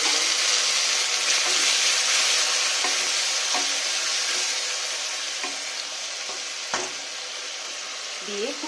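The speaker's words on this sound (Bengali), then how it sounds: "দিয়ে খুব ভালোভাবে আমি মশলাটাকে কষিয়ে নেবো" Spice paste sautéing in a pan after a splash of sweet water goes in, for a Bengali egg curry: a bright, continuous sizzle with occasional spoon taps, close, easing slightly toward the end.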